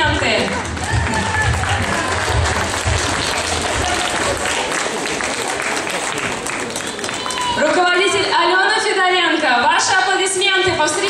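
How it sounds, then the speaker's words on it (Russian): Sustained audience applause fills a hall at a dance show, dense steady clapping with crowd noise throughout, while a presenter's voice comes in over it near the end. "Ваши аплодисменты."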